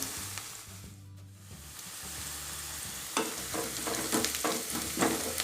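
Onions sizzling and frying in a pan for tomato rice, a steady crackle with stirring scrapes and a louder burst of sizzle partway through.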